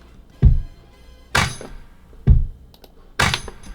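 A kick drum and a snare from a home drum set are layered together in an alternating beat. Four evenly spaced hits ring out, low thumps alternating with brighter snare cracks, each decaying quickly into near silence.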